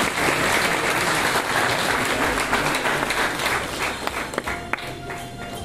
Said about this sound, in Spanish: Démosle un fuerte aplauso a todos los padres de familia que están con nosotros.